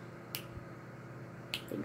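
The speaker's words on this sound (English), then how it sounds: "finger snap" Two crisp finger snaps, about a second apart, ring out close by in a quiet room over a low background hum, with a faint shuffle just after the second snap.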